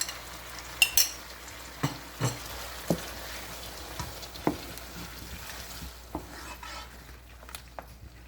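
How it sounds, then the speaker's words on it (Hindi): A spoon stirs tomato paste frying in a pan for a chicken shorba salan, giving a run of distinct scraping clinks over a low, steady sizzle, sharper at first and then easing into quieter stirring. "इसको हमने भूनना है टमाटर वाली पेस्ट के साथ"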